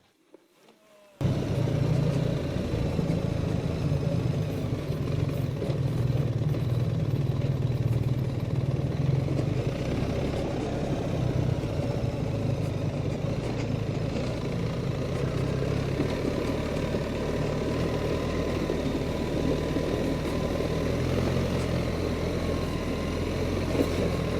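A BMW R 1300 GS Adventure motorcycle engine runs steadily after a brief quiet start, a loud, continuous low rumble that holds close and even for the whole stretch with no talk over it.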